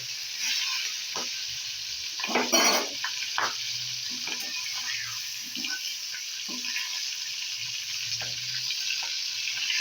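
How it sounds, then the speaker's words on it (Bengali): Shrimp frying in hot oil with salt and turmeric make a steady, close sizzle laced with small popping crackles and occasional stirring clatter, continuous throughout. "দেখো পটপট করে ফাটছে।"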